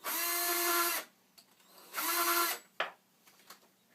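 A motorized case trimmer cuts brass reloading cartridge cases in two loud, close whirring runs, about a second and then half a second long, followed by a few small clicks and handling knocks.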